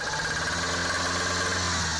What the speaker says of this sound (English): A noisy engine is your car communicating with you.